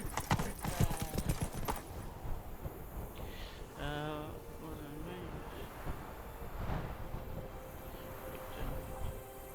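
Roach, the horse in The Witcher 3 video game, gallops with a fast, rhythmic clip-clop of hooves, joined midway by a brief whinny-like tonal call, while a voice speaks over the game sound.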